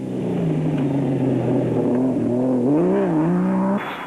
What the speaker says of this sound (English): As for Woolridge and Schultheimer in the 4-litre Ford Ranger, they were piling on the speed and the pressure